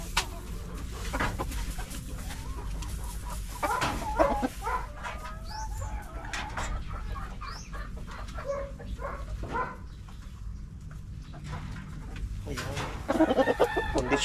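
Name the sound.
gamefowl roosters clucking in the chicken coops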